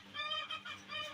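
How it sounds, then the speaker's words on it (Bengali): Chickens at a neighbouring house cluck faintly and at a distance, a brief run of a few nasal calls with no voices over them. "মুরগির আওয়াজ হচ্ছে, পাশের বাড়ি মুরগি থাকে"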